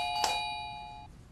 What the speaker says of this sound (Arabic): ادق الجرس ما يفتحون